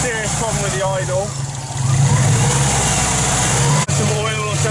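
Engine of a Peugeot-Subaru project car idling roughly during dyno prep, a loud uneven rumble that surges and dips with a brief cut near the end, with a voice talking over it.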